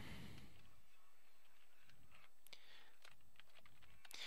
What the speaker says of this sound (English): watch what happens when I try to type Jim Appel.